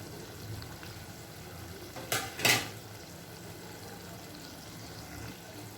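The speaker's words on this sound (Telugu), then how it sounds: "ఒక్కసారి కర్రీ ఇలా కలిపేసి మనం దించేసుకుందామండి" A spoon scrapes and clinks twice in a pan of eggplant curry as it is stirred, two short sharp metallic sounds over a quiet background of faint sizzling.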